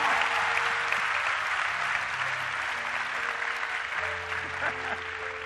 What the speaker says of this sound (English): Clap right now.